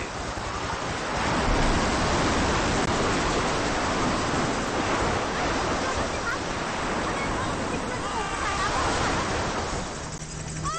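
Tsunami flood water rushes and churns with crashing waves in a continuous, loud, broad roar that holds steady throughout.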